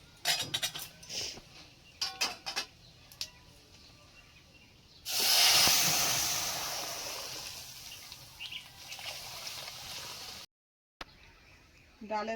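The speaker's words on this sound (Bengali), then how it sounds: "ফোড়নটা ভালো করে ভেজে নিয়েছি এবার ডালটা দিয়ে দেব" Lentils tipped into a hot spice tempering for masoor dal burst into a loud, broad sizzle that rises suddenly and then slowly fades, after earlier clinks and handling noises in the kitchen.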